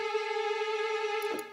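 A Berlin Strings virtual string instrument in Cubase sustains a half-tone trill as a steady, rich string tone with a faint quick flutter, alone and brief, ending with a soft click.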